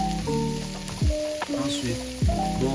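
Onions, garlic and carrots sizzle in a hot pan, a steady frying hiss that runs throughout with a few utensil taps and stirring scrapes, while soft background music plays along.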